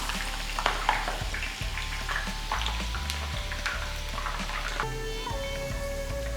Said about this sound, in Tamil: எண்ணெய் நல்லா காஞ்சிருச்சு. இப்போது இதில் நான் ஒரு பெரிய வெங்காயத்தை நல்லா ஸ்லைஸ் பண்ணி சேர்க்குறேன்.